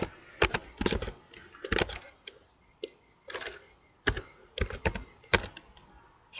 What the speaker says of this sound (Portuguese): vocês podem estar digitando aí Dead Racing